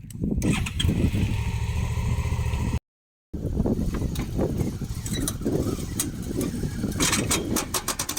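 A motorcycle engine runs while the bike is loaded onto a trailer: a low, steady motor rumble that briefly cuts to silence and then continues with rough, uneven mechanical noise at close range.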